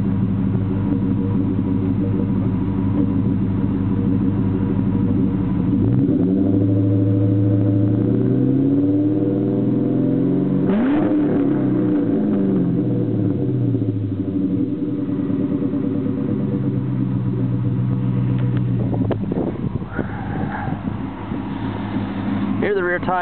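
A 1999 Ford Mustang Cobra's engine idles with a low rumble, then revs up and falls back down around the middle, with a few more throttle blips near the end.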